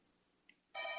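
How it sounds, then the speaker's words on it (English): A phone rings faintly in the background, its bright electronic ring starting abruptly and holding steady after a brief chirp, with no talking. "my phone is ringing in the background"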